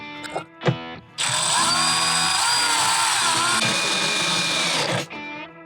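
A power drill tightens screws on the fairing of a 2015–2024 Harley Road Glide motorcycle: two short clicks and blips, then one loud sustained whirring run of about four seconds that cuts off abruptly.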